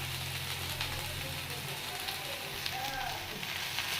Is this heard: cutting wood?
no